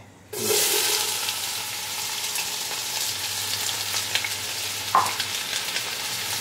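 Four to five medium onions, black peppercorns and hot oil for Parsi chicken dhansak, with a sudden loud sizzle as they hit the pan, then a steady close frying hiss broken by a few stirring scrapes.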